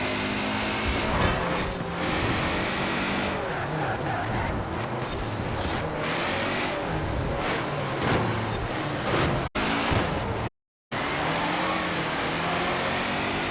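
An Emory Porsche 356 RSR race car in Forza Horizon 4 roars loudly and continuously, its engine revving up and down throughout, with a brief dropout near the end.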